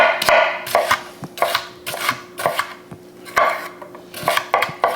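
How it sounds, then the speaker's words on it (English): Rapid knife chopping of an onion on a cutting board, a steady series of sharp taps in quick bursts with brief pauses, close by and fairly loud. "here's an onion. Just gotta finish chopping this up."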